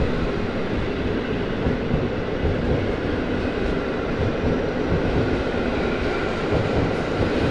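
Polish EU07 electric locomotive hauling an express out of Kraków Główny station, a steady loud rumble of wheels and traction roar filling the platform without pause, no voices over it.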